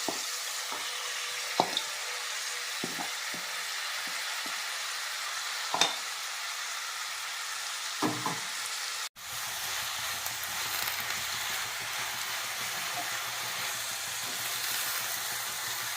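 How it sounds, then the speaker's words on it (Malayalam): Drumstick leaves sauté in a hot pan with a steady, close sizzle throughout, broken by occasional stirring scrapes and a brief dip before the frying hiss resumes; no one speaks. "ഇതിലേക്ക് നമ്മളുടെ റെഡിയാക്കി വെച്ചിരിക്കുന്ന മുരിങ്ങയുടെ ഇല ചേർത്ത് കൊടുക്കാം"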